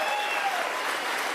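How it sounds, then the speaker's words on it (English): An audience at a Penticton rally applauding a military veteran, a dense, even burst of clapping from a crowd that holds steady through a short span. "Give him a round of applause."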